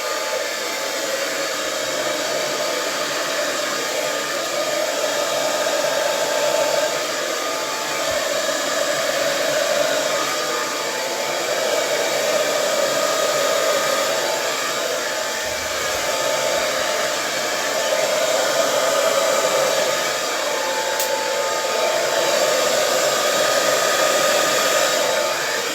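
A hair dryer blows steadily and loudly for the whole stretch, pushing a purple and lilac split-base Dutch acrylic paint pour across the surface, with a continuous airy roar that swells slightly as it moves.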